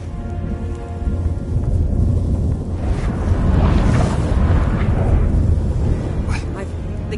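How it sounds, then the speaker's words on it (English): A storm in The Witcher 3 video game: steady rain with a broad rumbling swell of thunder midway, loud and continuous, with a faint voice under it. "That a storm?"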